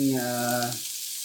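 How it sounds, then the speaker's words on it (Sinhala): Nopal cactus pieces frying in a pan give a steady, close sizzle that holds throughout, with a brief tonal hum over the first part. "මේකට ලුණු කපලා බදින්න තමයි යන්නේ"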